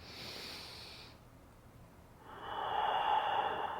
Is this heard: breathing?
yes